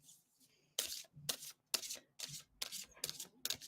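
A deck of tarot cards being shuffled in six quick, crisp riffling bursts with short pauses between them, close and fairly loud against a quiet room.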